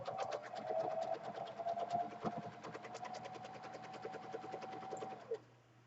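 A sewing machine runs steadily through fabric and a center strip of ribbon, its fast, even stitching rattle holding at a constant pace up close before it stops near the end.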